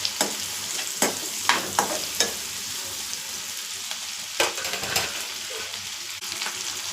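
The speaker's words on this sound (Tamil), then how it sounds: "அடுத்தது ஒரு குடமிளகாய், 2 வெங்காயம் வெட்டி வச்சுருக்கேன். அதையும் போட்டுக்கிறேன். இப்போ போட்டு நல்லா அது நல்லா வதங்கி வரட்டும்." Capsicum and onion sautéing in a frying pan with a steady sizzle, broken by several sharp scrapes of a spatula stirring, close up and without talk.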